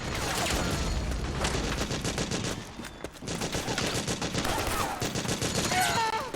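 Rapid machine-gun fire in the video game Metal Gear Solid 4 on PS3, dense continuous bursts with a brief gap midway, loud and close, with faint voices in the background.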